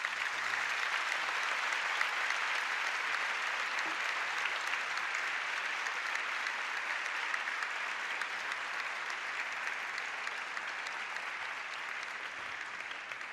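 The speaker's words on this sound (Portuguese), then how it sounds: "uma grande salva de palmas" Steady applause from an audience at a Hippocratic Oath ceremony for new doctors, a continuous even wash of many hands clapping, moderately distant and unbroken for over ten seconds.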